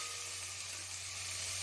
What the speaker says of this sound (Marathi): थोडंसं फ्राय करून घेते